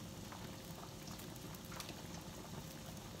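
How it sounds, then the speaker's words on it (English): Water at a steady rolling boil in a pot for cooking gnocchi, a continuous quiet bubbling hiss with small pops, heard close and alone. "my water is boiling"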